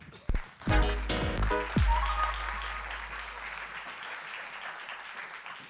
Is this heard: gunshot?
no